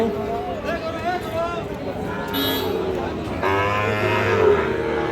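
A Sahiwal bull calf moos repeatedly at a busy cattle market, drawn-out calls close by over a steady hubbub of crowd voices and bargaining.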